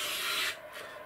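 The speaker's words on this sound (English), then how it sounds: "I want to be careful I don't catch the ribs with the blade of the plane." A hand plane shaves balsa wood on an RC model wing skeleton in one close, smooth, hissing rasping stroke that fades off after about half a second, leaving a quieter, softer scrape with no talking.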